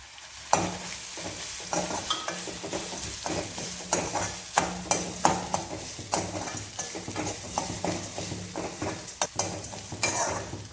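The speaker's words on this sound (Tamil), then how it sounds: "ஒரு சின்ன மூடி தேங்காய் அது துருவி வச்சுருக்கேன் அதை இதில் மிக்ஸ் பண்ணிடலாம் நாம்" Grated coconut stirred and mixed in a pan of sizzling spiced dough for savory kozhukattai, a spoon scraping in repeated strokes over a steady fry, close and moderately loud with no talk.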